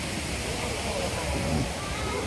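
Natural spring water flows out as a small waterfall at a spring in a Khao Yai community tourism area, making a brief, steady splashing rush heard close up.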